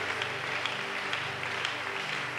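A church congregation applauds and cheers in praise of Jesus during a worship service, with steady, continuous clapping carried over sustained music throughout.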